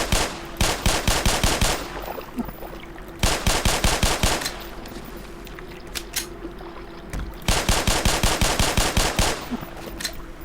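Rapid automatic gunfire from Black Mesa comes in three loud, clattering bursts of dense rhythmic shots, each lasting about two seconds, with quieter mechanical game noise filling the gaps between them.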